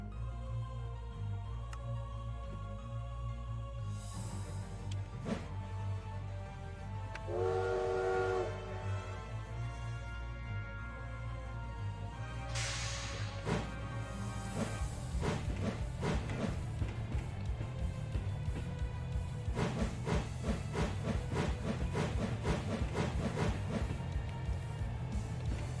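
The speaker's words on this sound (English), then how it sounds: "I'm about to run the train and the train is loud." A train runs in a Minecraft RoW modpack railroad, giving a loud low rumble with tonal whistle-like calls and rhythmic clattering that builds in the second half.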